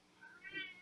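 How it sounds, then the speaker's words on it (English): A male cat meows excitedly over canned cat food, a short, faint indoor cry that rises and falls twice in under a second. "So if you hear the cat in the background, I'm not killing it. He's really excited about some cat food."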